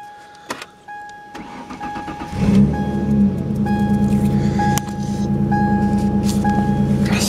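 A Mercury car with a Duratec engine cold starts: a few clicks and chimes, then the starter cranks and the motor catches into a loud, steady rough idle up close, with no talk.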